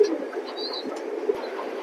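Soft, low pigeon coos close by, a brief murmuring call with faint rustling, no talking.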